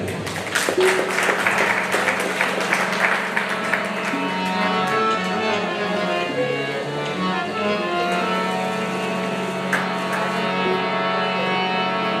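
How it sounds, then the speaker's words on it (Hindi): Audience applause bursts out strongly at first and then settles under a sustained musical drone and tones, clapping fading into the background as the music carries on. "एक जोरदार ताली बजानी पड़ेगी"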